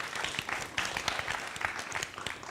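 Moderately loud audience applause at an outdoor disaster-response dialogue on water and sea safety, brisk clapping from a modest crowd with individual claps distinct, lasting a couple of seconds.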